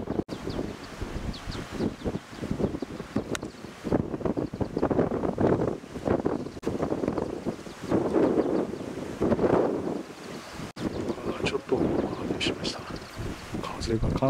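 Gusty wind buffets the microphone on a golf course, a continuous rushing roar that swells and fades over several seconds, with a few faint knocks and rustles and no clear speech.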